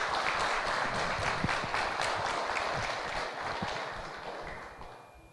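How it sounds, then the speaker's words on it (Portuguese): Sustained applause from a church congregation, a dense wash of many hands clapping loudly throughout and slowly thinning toward the end. "uma salva de palmas para o Senhor Jesus Cristo"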